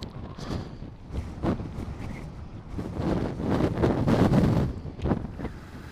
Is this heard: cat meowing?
no